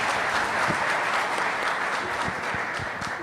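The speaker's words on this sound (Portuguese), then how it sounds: "Podem aplaudir." Sustained audience applause at a lecture on solid waste and recycling, a steady, dense wash of many hands clapping at fairly close range, with no voices above it.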